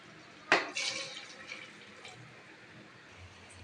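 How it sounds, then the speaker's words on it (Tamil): Water poured into a vegetable biryani mixture of ground coconut paste in a pot, a short splashing burst followed by a softer trickle that fades, close and fairly quiet. "இப்போ தண்ணி சேர்த்துக்கோங்க"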